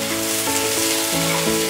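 Capsicum and onion fry in a pan for a restaurant-style chilli gobi, a steady close sizzle with a constant hiss and a low hum beneath it.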